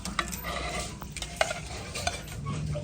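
Ghee sizzling steadily in a pan on a village stove, a continuous crackling hiss with a few sharper pops and faint clinks of stirring.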